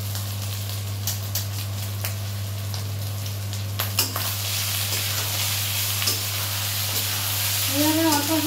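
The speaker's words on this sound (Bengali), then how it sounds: "এরভাবে এদিক ওদিক করে রাইসটাকেও ভালো করে ভাজতে হবে" Rice stir-fried in a pan after sugar has been added, giving a steady close sizzle with scattered spatula scrapes and clinks, the frying growing busier toward the end over a constant low hum.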